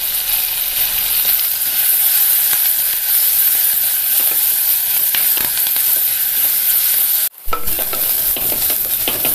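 A handful of curry leaves and sliced onions sizzle loudly in hot oil as they are stirred for a mackerel curry. The steady hiss briefly drops out partway through, then resumes.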